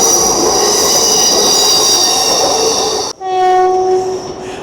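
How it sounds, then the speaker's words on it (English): A TransPennine Express class 802 train to Edinburgh passes with loud rolling rail noise and a high squealing whine, then cuts to a long, close horn blast. "now we have a TPE 802 with a service to Edinburgh, 802-209"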